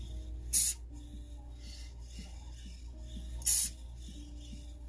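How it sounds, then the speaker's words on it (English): Two short, bright hisses of accelerator spray on a spinning ring blank, spaced about three seconds apart over a quiet mechanical whir. "I found that like 2 or 3 spritz while spinning usually touches the whole ring blank"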